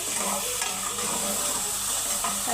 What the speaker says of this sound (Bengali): এখানে আমরা গ্যাসটা বাড়িয়ে দিচ্ছি আস্তে আস্তে কষানো হয়ে যাবে সুন্দরভাবে আমরা কষা ফেলতেছি লাউটা